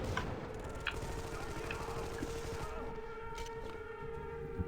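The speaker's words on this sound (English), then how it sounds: "air raid siren kind of going off" An air raid siren wails steadily in the video game Armed and Dangerous, a continuous droning tone held under busy game noise with occasional ticks and clanks throughout.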